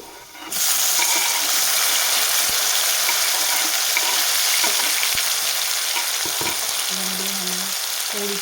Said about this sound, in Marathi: तर अगोदर आपण लसूण छान तळून घेऊया आणि त्याच्यामध्ये घालणार टोमॅटो